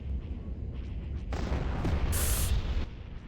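A velocity cannon fires in a Star Wars: Empire at War mod, one heavy boom-like blast lasting about a second and a half over a low, constant battle rumble, fairly quiet overall.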